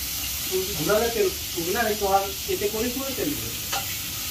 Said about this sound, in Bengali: তো তুমি খুন্তি ঘুরালে তো তেল ছিটবে না?